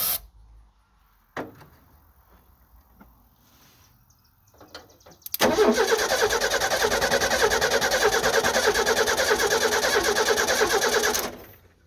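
A 1989 Ford F150 pickup engine cranks with brief sputters, then catches and runs loud and steady at a rough idle for several seconds before cutting off abruptly.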